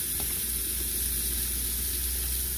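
Cheese fries in a pan with a steady, loud, unbroken hiss and sizzle throughout.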